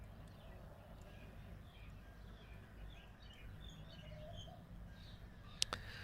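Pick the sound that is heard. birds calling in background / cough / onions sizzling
birds calling in background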